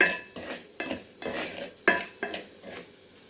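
Semolina (rava) is roasted in a pan. A utensil stirs and scrapes against the metal in repeated strokes about every half second, close and clear, with no talking.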